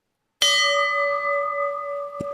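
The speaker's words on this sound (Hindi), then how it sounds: "सनी ने घंटी बजाई।" A small silver bell rings once with a sudden bright strike, its clear tone sustaining and slowly fading over two seconds, close and alone.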